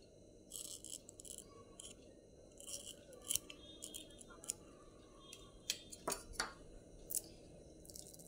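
A knife cuts pieces of mango, giving sharp, scattered clicks and light slicing ticks over a low steady background hum.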